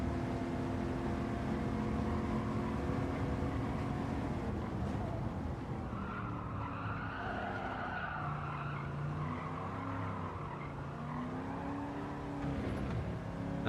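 Race car in Gran Turismo 7 running a time trial, its engine holding a loud, steady drone with rising and falling revs and gear shifts, plus tire squeal, continuous throughout with no voices.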